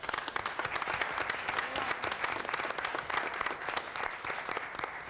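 An audience applauds board members at a Lacey Township public meeting, with steady, dense clapping throughout that stays even and sustained.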